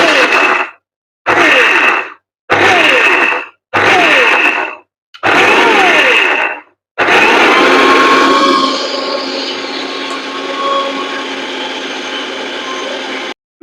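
Electric kitchen mixer grinder grinding coconut, several short loud whirring bursts separated by pauses, then one long continuous high-pitched grind that settles as the motor runs on.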